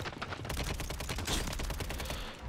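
Rapid automatic gunfire from dual SMGs in Call of Duty Warzone on Rebirth Island, a dense, continuous stream of loud shots running nearly the full length without a break.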